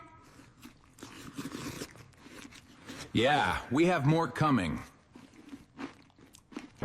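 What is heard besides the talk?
chewing food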